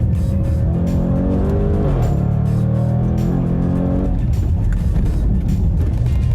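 A 2024 Jaguar F-PACE SVR engine revs hard, its pitch climbing and falling through gear changes, then settles into a rough, throaty growl close by.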